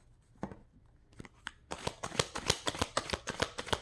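Tarot cards are shuffled briskly at close range, a few soft separate flicks giving way to a dense, rapid run of riffling snaps and card slides with no talking.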